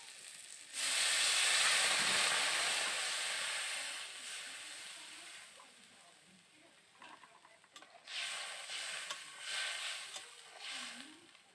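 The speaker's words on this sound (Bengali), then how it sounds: "এবারে দিয়ে দেব জল।" Water poured into a hot pan of fried okra sets off a loud, bursting hiss and sizzle that fades over several seconds, followed by renewed bubbling and stirring sounds.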